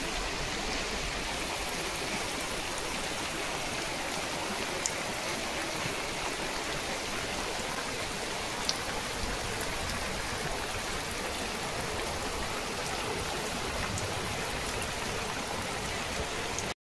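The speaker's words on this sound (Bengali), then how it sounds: "অনেক ঝড় বৃষ্টি হলো, এখনো বৃষ্টি হচ্ছে" Steady rain keeps falling on a remote Sundarbans village after a Kalbaishakhi storm, forming an even, dense hiss of drops that runs unchanged throughout with only a couple of faint taps above it.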